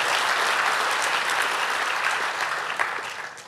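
Church congregation applauding during a Sunday morning service, a dense, steady wash of clapping that holds for several seconds and tapers slightly at the end, with no voices over it.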